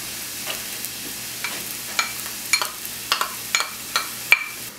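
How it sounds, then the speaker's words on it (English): Mushrooms and garlic sauteing in a pan, with a soft steady sizzle broken by repeated scraping stirs of a utensil roughly every half second, close and clear, with no voices. "We're just going to saute these until they're nice and soft"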